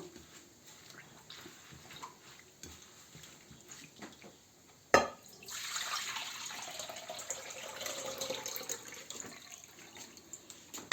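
Orache greens are washed in a basin of water: quiet handling at first, then a sharp splash and sustained sloshing and trickling as the leaves are swished around.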